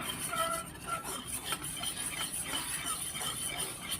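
A spoon stirs seasoned kwek-kwek batter with salt and pepper in a bowl, producing repeated scraping and clinking strokes against the bowl at close range.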